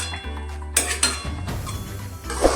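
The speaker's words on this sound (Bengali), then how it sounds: "এবার ডালটাকে নাড়িয়ে দেখব কতটা কি হয়েছে।" A spoon scrapes and clinks against a cooking pot while stirring boiled lentil dal for a Bengali masala dal, with a few sharp metallic knocks over a steady low hum.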